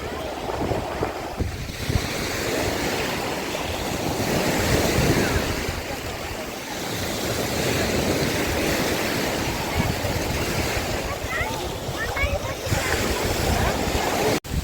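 Sea waves wash continuously onto the shore at Odesa, a steady roar of surf mixed with gusty wind buffeting the microphone, loud and close throughout.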